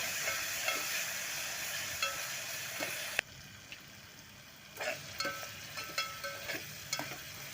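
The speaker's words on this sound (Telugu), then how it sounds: "ఈ అల్లం వెల్లుల్లి పేస్ట్ని మనం పచ్చివాసన పోయేంత వరకు ఇలా కలుపుతూ ఎంచుకోవాలి చూడండి" Ginger-garlic paste for an okra curry fries in a pan with a steady hiss and occasional stirring taps. The sizzle drops away briefly midway, then returns with a run of spoon knocks, fairly quiet and close.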